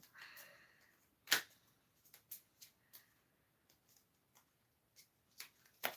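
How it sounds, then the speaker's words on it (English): Oracle cards are shuffled and dropped, giving a quiet series of sharp papery slaps and clicks with one louder thud of cards hitting a surface, all close by in a hushed room. "I've just dropped a load of cards."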